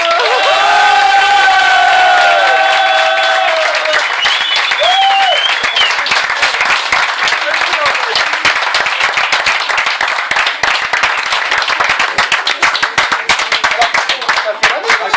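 Big crowd applauding and cheering at a farewell, loud sustained clapping with whoops and shouts, whistles early on, building into rhythmic clapping toward the end.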